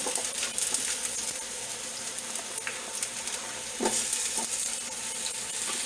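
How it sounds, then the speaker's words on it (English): Onions frying in hot oil for a Filipino chicken curry give a steady, close sizzle with faint crackles and a few light clinks of utensils on the pan. "So my oil is hot, so I will put the onions"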